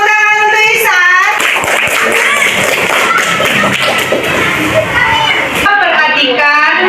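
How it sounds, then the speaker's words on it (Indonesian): Students clapping for a classmate in an Indonesian classroom, a short burst of hand claps mixed with loud nearby chatter and voices through most of the stretch. "tepuk tangan untuk Isan."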